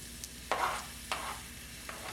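Onions going into a hot pan to fry, with a soft steady sizzle and a few stirring scrapes, close and fairly quiet, no talking.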